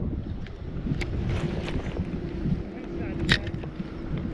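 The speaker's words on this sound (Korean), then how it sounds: "바람이 장난 아닌데?" Strong wind buffets the microphone while fishing from a boat for mandarin fish on a river near Andong in autumn, a steady rough rumble with a few brief knocks, and a voice talks faintly underneath.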